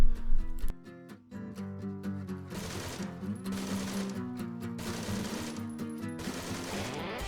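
Rifle shots in the military shooter Arma 3 crack out in a rapid cluster with a rattling mechanical echo, loud and close, then settle into a steady layered drone of ambience and tail.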